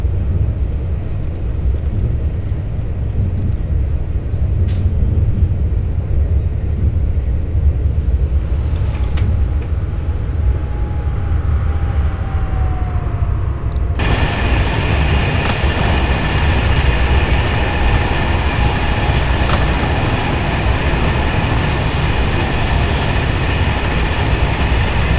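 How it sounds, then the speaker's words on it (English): A simulated Class 390 electric express train runs in the game Train Simulator 2018, giving a steady loud rumble of wheels and motor hum that turns brighter and hissier halfway through, with a faint whine in it. "just let you listen to the amazing sounds coming from this train"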